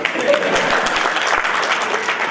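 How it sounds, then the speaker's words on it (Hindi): A crowd claps steadily at a foundation-day celebration after a poem ends, a brief, even burst of applause with a faint voice mixed in. "आप लोग तालियां बजा सकते।"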